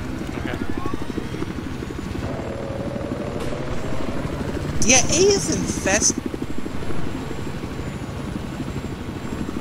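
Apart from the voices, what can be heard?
helicopter in Battlefield 4 video game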